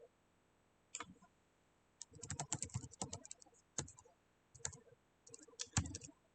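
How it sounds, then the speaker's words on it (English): Bursts of clicky typing on a computer keyboard, close and fairly quiet, in irregular clusters of rapid keystrokes separated by short pauses, with no talking. "Typing is hard."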